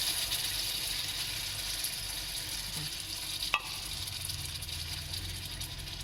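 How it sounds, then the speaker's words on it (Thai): Canned fish goes into a frying pan with sautéed shallots for a Thai chili paste, and a steady sizzle fills the sound with faint stirring scrapes and one brief sharp clink. "พอผัดหอมแล้วนะจ๊ะเนาะเท่ากับใส่ปลากระป๋องลงไป เทลงไปเลยพี่น้อง"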